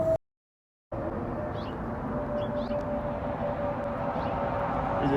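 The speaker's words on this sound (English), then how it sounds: "There's a jet flying over when I leave the ATM." A jet aircraft flying overhead outside near an ATM, heard as a steady, broad distant roar that fills the scene after a brief cut-out at the start.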